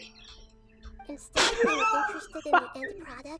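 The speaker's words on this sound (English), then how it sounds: "That was a sneeze, sorry." A single sharp sneeze bursts out mid-speech during a Genshin Impact game stream, loud and close, with a person talking right after it.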